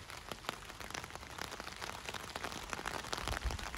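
Rain falling during a thunderstorm at a bicycle-caravan meetup, a steady dense patter of drops hitting a surface nearby with no talking or thunder.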